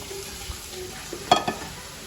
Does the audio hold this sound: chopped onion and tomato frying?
yes